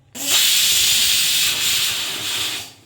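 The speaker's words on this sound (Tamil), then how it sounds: "குக்கர் வச்சுட்டேன் குண்டு போடுறேன் மூணு விசில் வரட்டும்" A pressure cooker boiling potatoes lets off a steady, loud hiss of steam that starts abruptly and holds for over two seconds before tapering off, with no voices.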